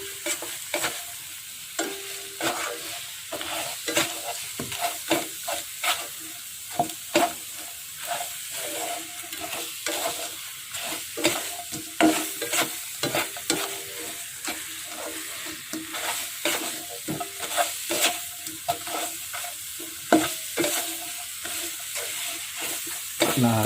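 A spatula scrapes and stirs repeatedly through fried chicken in a hot frying pan, rhythmic scraping strokes over a constant sizzling hiss.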